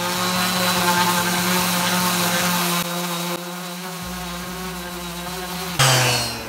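A power sander works over a charred shou sugi ban wooden gate, a loud steady motor whine with a buzzing drone that shifts pitch as pressure changes, then surges briefly louder near the end.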